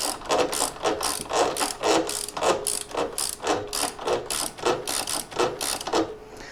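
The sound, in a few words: wrench ratcheting on motorcycle rear suspension nut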